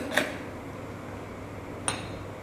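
Two light clinks sound as a stone, a chandan stick and a spoon are set down on a tray, separated by a quiet pause.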